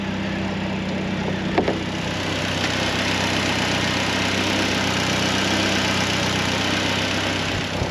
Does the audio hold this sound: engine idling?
yes